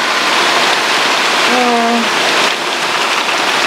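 Steady rain falling, a dense continuous hiss of drops on surfaces, with a brief faint tonal sound midway.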